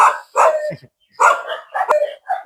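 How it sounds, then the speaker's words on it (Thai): A dog at a hillside Thai temple, Wat Khao Yai Kata, barks close by in a few loud, sharp barks, split into two short clusters with a brief pause between. "ตอนนี้หมาก็มาลุกเห่าผมนะครับ"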